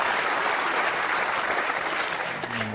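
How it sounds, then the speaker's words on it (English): Snooker crowd at the World Championship gives a sustained, dense round of applause for a shot, loud and steady throughout, with a low tone creeping in at the very end. "the Ali Carter camp giving him a terrific round of applause for that shot"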